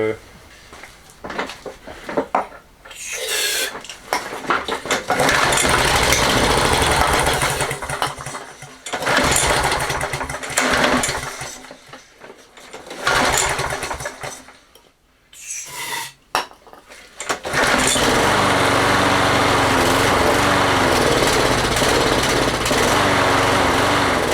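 Toro 20789 walk-behind lawn mower with a Briggs & Stratton Intek engine, troubled by a starting fault, runs loud and close in uneven bursts that surge, stall and restart, then settles into a steady roar; a voice speaks in places.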